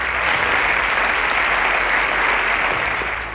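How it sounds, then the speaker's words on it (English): Steady, loud applause from a quiz-show audience, cheering a contestant in a school science semi-final, a dense wash of clapping that holds evenly throughout before easing slightly at the end. "Round of applause for Enoch."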